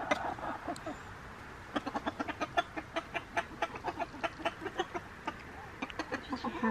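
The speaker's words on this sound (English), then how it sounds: "Look at our little rooster." Chickens cluck close by in quick, rhythmic bursts, a rooster among them, the clucks repeating in short runs over quiet farmyard background.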